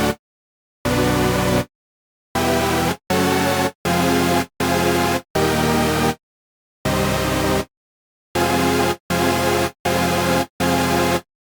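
Synthesizer lead chords built in FL Studio, in the style of an ultrasaw lead, played as a loud rhythmic sequence of sustained bright chord stabs separated by short silences.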